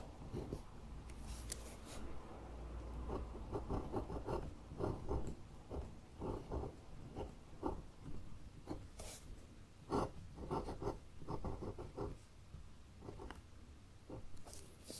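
Ballpoint pen strokes on paper write out numbers in short, soft scratching bursts separated by brief pauses. The sound is close and quiet in a calm, hushed setting.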